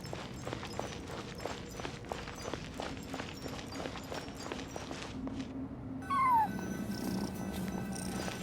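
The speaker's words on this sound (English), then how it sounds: "I followed the cat's cries to find my way out." In Genshin Impact, a cat gives a single clear meow after a run of soft, regular footsteps, with ambient game tones continuing underneath and no talking.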